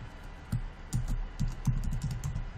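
Typing on a computer keyboard, a close run of irregular key taps and clicks, some grouped in quick pairs, moderately loud with no voices.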